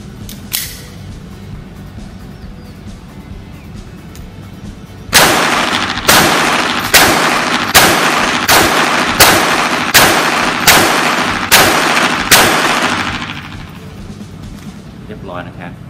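A Sig Sauer Mosquito .22 semi-automatic pistol fires about eleven sharp, loud shots at a steady pace, preceded by quieter handling noises and background murmur.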